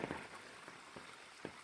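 Rain falls steadily onto a wet hiking trail on Vermont's Long Trail, a soft continuous patter with scattered louder drops, fairly faint and without voices.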